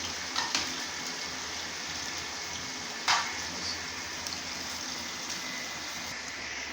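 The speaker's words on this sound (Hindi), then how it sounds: "इसी तरह हमने थोड़ी भिंडी और करके थोड़ी करके हमने सारी भिंडी हाफ फ्राई कर लेंगे" Okra (bhindi) half-frying in oil makes a soft, steady sizzle throughout, fairly faint and even, broken by a few sharp crackles and pops.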